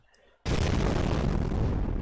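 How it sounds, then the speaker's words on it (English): An explosion in the Fate/Grand Order video game erupts suddenly after a near-silent moment, a loud blast that swells into a sustained rumbling roar. "That sounded like an explosion."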